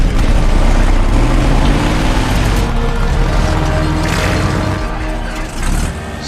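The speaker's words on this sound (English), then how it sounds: "All right, racers, start your engine." Racing plane engines start up and roar together at an animated race's starting line, a loud, dense, continuous engine drone with rising whines that eases slightly near the end.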